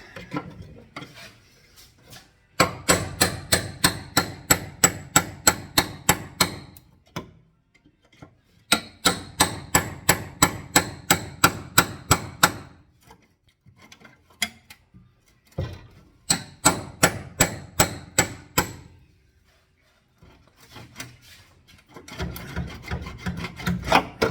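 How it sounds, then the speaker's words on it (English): Metal being cut by hand on the flange of a Datsun Z frame rail: close, rhythmic rasping strokes in several fast bursts separated by short pauses, with no talking. "Right now I'm cutting the flange on the frame rail that goes up along the apron, this angle."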